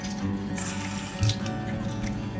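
Tap water runs steadily into a bathroom sink for rinsing while brushing teeth, a continuous close splashing stream with no voices.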